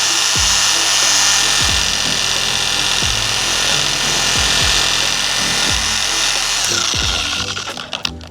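A car polisher whirs steadily at close range while polishing compound is spread across the pad during paint correction on a black Nissan Livina, with the motor tone easing toward the end and a few light knocks.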